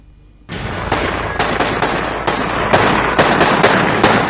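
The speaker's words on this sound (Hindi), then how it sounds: "अब ये आतंकी पीओके में पहुंचकर खुलेआम फायरिंग करके अपनी रिहाई का जश्न मना रहे हैं।" Celebratory gunfire by militants in PoK bursts in suddenly, then repeated loud shots and crackling reports follow in an irregular, rapid series, echoing outdoors.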